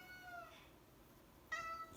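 A cat meows twice, two short tonal mews about a second apart, faint and close in a quiet room with no other sounds.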